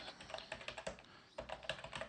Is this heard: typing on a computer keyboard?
yes